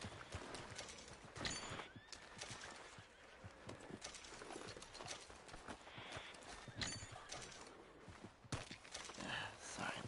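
In the Red Dead Redemption 2 video game, horses clip-clop with busy hooves and neigh loudly several times in a noisy scene, with someone talking over parts of it.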